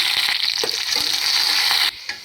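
A tempering of onion, seeds, dried chili and curry leaves crackles loudly in hot oil, a dense close sizzle that drops off sharply near the end.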